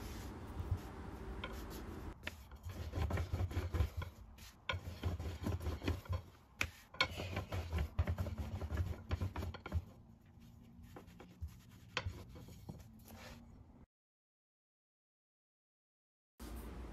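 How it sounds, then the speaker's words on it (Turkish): A small rolling pin rolls out floured dough on a work surface with soft, repeated rubbing and rolling strokes in an irregular rhythm, close and quiet, then brief silence near the end. "biraz un serperek küçük bir oklava yardımıyla orta incelikte bezemi açıyorum"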